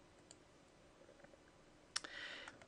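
A faint mouse click on a software button in a drapery pleating program, with a sharp brief click and a small burst of activity after it, set against quiet room tone.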